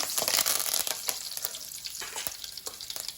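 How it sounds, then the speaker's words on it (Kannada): Cumin, mustard seeds and curry leaves sizzle and crackle in hot oil for a radish curd gojju, a dense steady hiss dotted with sharp popping seeds and a few stirring scrapes, close and alone. "ಒನ್ ಟೀ ಸ್ಪೂನಷ್ಟು ಜೀರಿಗೆ ಒನ್ ಟೀ ಸ್ಪೂನಷ್ಟು ಸಾಸಿವೆಯನ್ನು ಹಾಕ್ಕೊಳ್ತಾ ಇದ್ದೇನೆ ನಾಲ್ಕರಿಂದ ಐದು ಕರಿಬೇವಿನ ಎಲೆಗಳನ್ನು ಸೇರಿಸ್ಕೊಳ್ತಾ ಇದ್ದೀನಿ"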